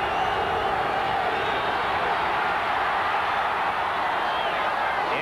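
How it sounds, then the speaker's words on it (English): A football stadium crowd of Jets fans roars steadily for the defense, a dense, continuous wash of cheering with no distinct breaks. "Jets fans on their feet now cheering the defense."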